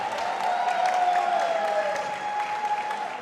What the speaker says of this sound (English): how about a big round of applause for both men inside the ring tonight?